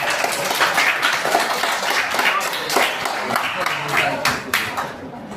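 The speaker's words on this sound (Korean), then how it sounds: "박수 한번 쳐주세요" A classroom group claps steadily for several seconds, dense applause with voices mixed in underneath.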